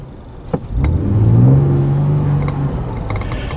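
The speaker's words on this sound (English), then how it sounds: "So let me just do a gentle acceleration, guys." A 2023 Ford Ranger Raptor pickup's engine pulls through a gentle acceleration, a close, steady rising drone that swells after a brief lag and holds a sustained tone for a few seconds, with no talking.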